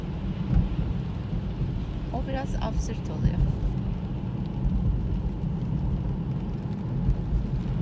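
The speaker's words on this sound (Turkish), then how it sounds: "Yağmur çok güzel yağıyor." Steady rain noise fills the background under someone talking, with a broad continuous hiss and low rumble throughout, as rain heard from inside a car.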